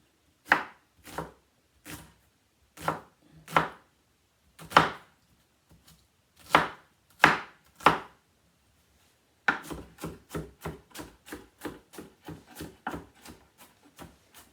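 Onions for stuffing are chopped on a board with a knife, first about a dozen slow, evenly spaced thunks, then a fast steady run of lighter chops, close and alone with no talk.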